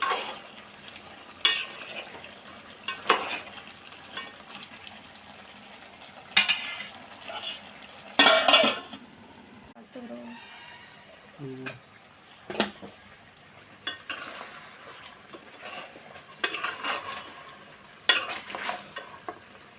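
A ram's head curry simmers in a pot, with stirring scrapes, occasional utensil clanks and a soft continuous bubbling at close range, with no talking.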